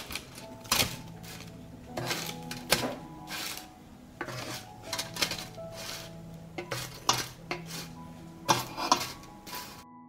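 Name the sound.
burgers being turned over on a baking tray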